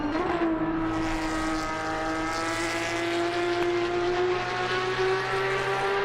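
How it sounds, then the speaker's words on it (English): A Porsche Cup race car engine at Snetterton in a racing video game, holding a high, steady rev that climbs slowly in pitch, loud and alone. "Listen to that revving, proper going for it."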